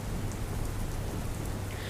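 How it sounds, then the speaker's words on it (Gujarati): Heavy downpour in Junagadh's Mendarda taluka, a dense, constant hiss of rain falling on surfaces, steady and close with no voices. "જૂનાગઢના મેંદરડા તાલુકામાં ધોધમાર વરસાદ,"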